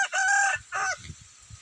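Backyard farm chickens raised as pets: a rooster crows loudly twice in close succession, with softer clucking and scratching around it, no talking.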